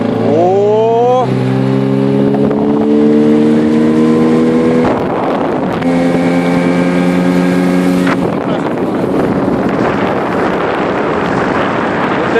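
A Nissan Marine outboard motor on a boat revs up as the throttle opens, its engine tone climbing steadily and then holding a loud, sustained drone, with wind and water noise rushing over the microphone.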